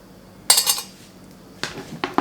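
A knife clinks and scrapes against a plate as food is sliced at home, with a sharp ceramic scrape followed after a pause by two shorter cutting strokes, close and clear with no talking.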